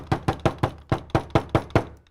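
An espresso portafilter from a Gaggia Carezza machine is rapped against a knock box to dump a wet spent coffee puck, nine sharp, loud, evenly spaced knocks close by with no talk.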